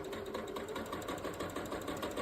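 A sewing machine runs steadily, stitching quilt block pieces, its needle chattering in a fast, even rhythm at close range, with no talking.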